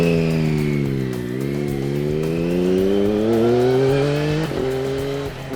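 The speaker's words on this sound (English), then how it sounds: "just the greatest sounding triple engine in the world" A triple-engine motorcycle revs hard and close, its loud, continuous engine note rising steadily in pitch through a long pull, with a brief dip and shift near the end and no talking.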